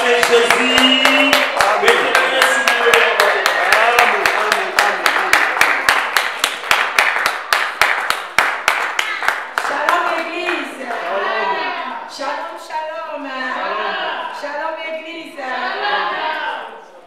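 A church congregation claps in rapid rhythmic unison to acclaim Jesus, loud and close, the regular beats running for about ten seconds before giving way to singing and voices.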